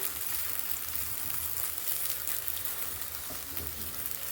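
Rice roti sizzling and frying in oil on a hot tava, a steady dense crackle and hiss running throughout, close and fairly loud, with no talking.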